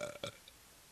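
A person burps deliberately, two short guttural belches close together near the start, close and fairly loud, followed by quiet.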